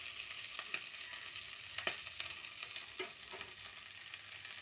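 Ingredients for fried rice fry gently in a pan with a soft, steady sizzle, punctuated by occasional light clicks and scrapes of stirring; the sound stays quiet and close, with no talking.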